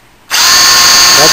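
A power drill spins a permanent magnet alternator with no load, kicking on abruptly and then holding a loud, steady high-pitched whine up close.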